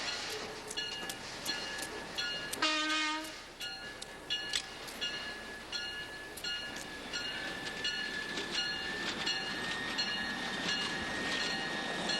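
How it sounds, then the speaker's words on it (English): A freight train rolls past with repeated metallic clanks and clicks from its coupling bars over a rumbling bed of wheel noise; a brief horn-like tone sounds early on. "Could be the coupling bars on freight trains."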